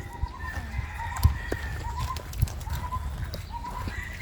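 Roosters at Wat Mae Nang Pluem temple grounds in Ayutthaya crow repeatedly in drawn-out calls at moderate distance, with scattered clucks and soft background noise between them.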